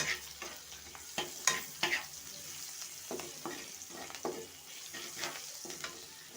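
Fish and egg fry in a pan for chowmein, with soft sizzling and the tap and scrape of a spatula stirring at close range, fairly quiet overall, with no talking.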